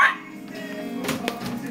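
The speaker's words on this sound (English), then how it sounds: "Look at this cute dog." A dog gives a single short bark or yip, close and brief, with some faint room noise after it.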